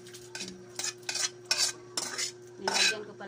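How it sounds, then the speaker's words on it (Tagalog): A sautéed mixture is stirred into a pot of boiled mung beans, with repeated scraping and clinking of a spoon against the pot in uneven bursts, close and alone. "ilunod ko na dito sa pinakuluan kong munggo"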